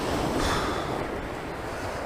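Big waves pound a shore in heavy rain and gusting wind, a loud continuous roar of surf and wash with no let-up, heard on a coast while fishing for gurnard and wrasse in weedy water.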